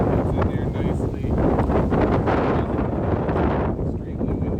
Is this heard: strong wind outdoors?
yes